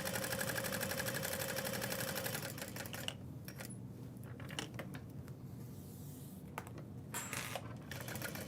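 A sewing machine stitches a backpack with a fast, steady mechanical chatter that runs continuously for about three seconds, then turns into shorter, irregular bursts and taps, close and fairly faint, with no talking.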